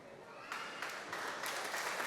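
Applause from a wrestling event crowd rises in swells over about two seconds, faint and distant, with an announcer speaking over it.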